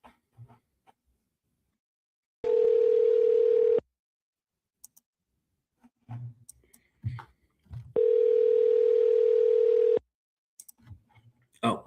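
A telephone line gives two long steady dial-tone bursts separated by a pause, with scattered short clicks and button presses around them, loud and clear with no talking.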